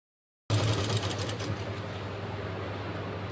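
Sewing machine stitching fabric with elastic while sewing an Afghani salwar: a fast steady mechanical whir with rapid needle clatter starts abruptly and runs continuously, close and fairly loud, with no talking.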